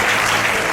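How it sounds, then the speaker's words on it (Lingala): A church congregation breaks into dense, continuous applause, a steady wash of many hands clapping close by and loud. "Est-ce que nous pouvons acclamer?"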